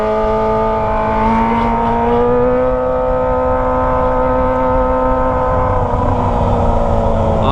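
A Kawasaki ZX25R motorcycle fitted with a Toce exhaust revs hard and steadily on a busy street, its loud high-pitched inline engine note sustained and rising slightly, close by with no talk.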